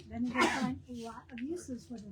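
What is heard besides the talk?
sneeze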